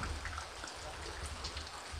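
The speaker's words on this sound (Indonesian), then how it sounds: "Hujan terus." Steady rain falls over a durian orchard, a dense even hiss with faint drop patter throughout, nearby and continuous with no talk.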